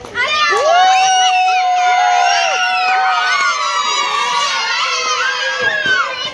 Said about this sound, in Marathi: चिल्ली पिल्लीचा पण जल्लोष चाललाय